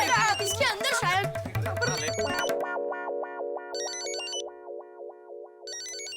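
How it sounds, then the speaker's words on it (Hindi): A mobile phone ringtone plays as a steady repeating electronic melody with regular pulses, starting after a burst of loud talk and continuing alone at moderate volume. "लगता है किसी का मोबाइल बज रहा है।"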